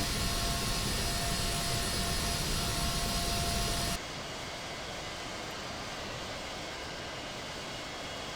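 Steady, loud engine roar from an aircraft taxiing in Microsoft Flight Simulator X, a continuous hum that abruptly shifts to a duller, quieter tone partway through.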